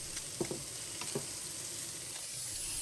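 Carrots, garlic, ginger and onion stir-frying in a pan for a beef stir fry, a steady close hiss of sizzling with a few soft utensil scrapes and taps early on.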